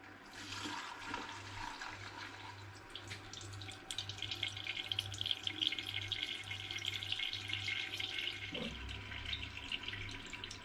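Homemade apple gin poured through a coffee percolator filter in a kitchen, a faint continuous trickling and splashing of liquid under a low steady hum, with a brief clink near the end.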